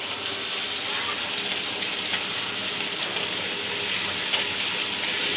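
Leafy greens (shak) frying in a pan in a home kitchen, giving a steady, close, broadband sizzle that holds evenly throughout with no talking.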